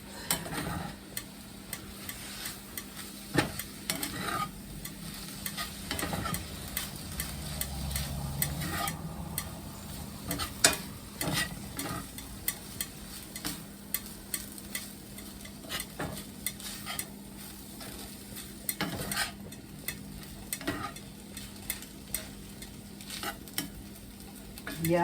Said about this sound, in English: I'm going to mix the rice